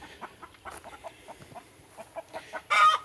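Chickens cluck in short, repeated bursts nearby beside a creek, ending with a louder, drawn-out squawk; no talking.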